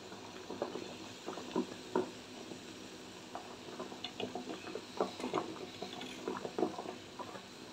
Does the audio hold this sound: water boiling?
yes